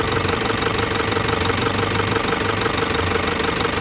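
A Toyota Hiace with a 1KD diesel engine idles roughly with a misfire, a loud, close, continuous clattering rumble with a shaky, uneven pulse and no voices.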